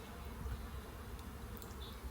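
Honey bees hum in a steady low buzz while a nuc is moved into a beehive, faint and continuous with no voices.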